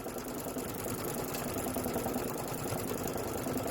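A sewing machine stitches quilt sashing and border, its fast steady motor whir and needle chatter running continuously up close with no talking.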